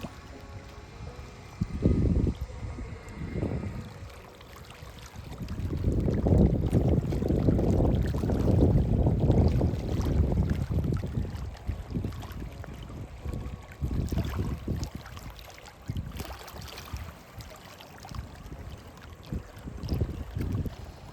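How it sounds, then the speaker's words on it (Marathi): Flowing water at the Khadakwasla backwater near Kudje village rushes and splashes outdoors in uneven surges, with wind buffeting the microphone and no voices. "इथल्या संत अशा वाहणाऱ्या ह्या पाण्याचा तुम्ही फक्त आवाज ऐका"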